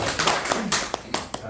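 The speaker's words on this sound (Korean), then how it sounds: "자, 이 성가대를 위해서 박수 한번 쳐주시면 됩니다." A church congregation at a Sunday service claps for the choir, scattered hand claps with a few sharp separate strikes, heard close and fairly loud under faint voices.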